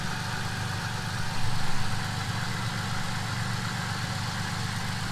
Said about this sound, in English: And it's idling smooth.